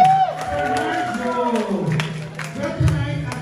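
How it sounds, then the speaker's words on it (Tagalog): An audience at an evening talent show applauds and cheers for a group of painters. Scattered clapping and crowd noise run under a host's amplified voice talking over it. "Palakpak naman dyan!"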